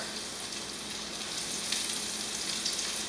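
Salmon croquettes frying in hot oil, a steady close crackling sizzle with faint pops, holding even and alone for about three seconds.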